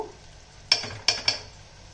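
Fried onions with turmeric and chili powder being stirred in a pan, three sharp metallic spoon clinks against the pan over a faint low sizzle, close and without speech.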